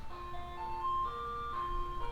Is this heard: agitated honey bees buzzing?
no